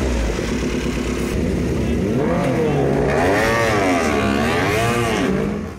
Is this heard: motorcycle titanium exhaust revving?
yes